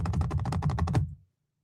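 A voice imitates rapid typing on a computer keyboard with about ten quick, evenly spaced tapping bursts that stop abruptly, followed by silence.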